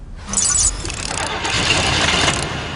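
A car engine cranks and catches, then settles into a steady idle, close and fairly loud.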